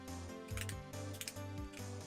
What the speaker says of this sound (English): Sorry if you hear clicking. That's my eye drops.